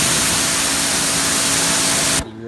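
Electric pressure washer (2500 PSI, 1.8 GPM) spraying through a green nozzle, a loud continuous hiss of water jet that stops abruptly near the end, leaving a faint motor hum.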